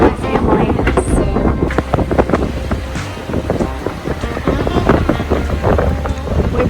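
Strong wind roars across the microphone on an engineless sailboat heeling and moving fast at sea, a loud continuous buffeting gust noise with water rushing beneath.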